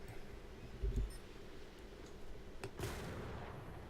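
A naval gun fires a ranging shot in the War Thunder naval tutorial, a low boom near the one-second mark followed by a second sharper report a couple of seconds later, over a steady low rumble of ship ambience.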